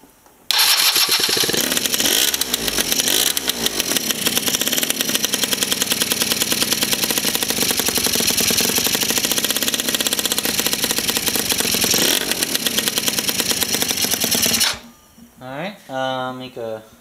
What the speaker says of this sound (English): Let's start her up for you again.